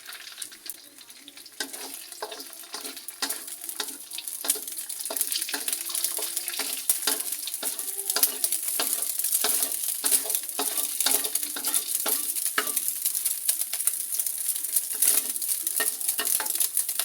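Egg stir-frying in a pan for nasi goreng gives a continuous bright sizzle, broken by frequent scraping and tapping strokes of a spatula. The sound is fairly loud and close and runs throughout without talk.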